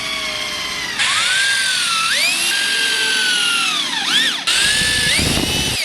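Power drill working on a plywood subfloor inside a van under construction, a steady loud whine that rises and falls in pitch as the motor speeds up and slows, with brief pauses and restarts.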